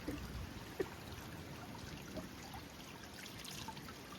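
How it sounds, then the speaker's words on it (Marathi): Spring water trickling and splashing as a container is filled at a mountain spring on the way down from Raigad fort, a faint steady dribble under wind noise with one brief knock. "हा झऱ्याचं पाणी भरतोय, बघू शकता."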